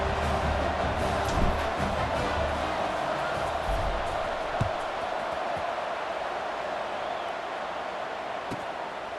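A stadium crowd murmurs as a steady, distant wash of noise in EA Sports College Football 26, with a couple of faint thumps and no clear cheering.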